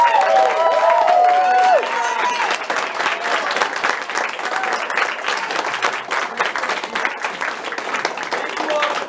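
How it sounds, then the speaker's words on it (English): Applause from the audience at a college drama and music club spring showcase, honoring the actors: dense, steady clapping with a crowd murmur fills the whole stretch, with a brief voice or whistle-like tone early on. "Another huge round of applause for all of our actors."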